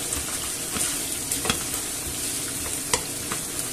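Sausages and vegetables brown in a pan with a steady, close sizzle, broken by scraping stirs and a few louder clicks of a utensil against the pan.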